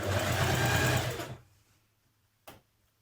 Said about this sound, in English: you're top stitching it from the outside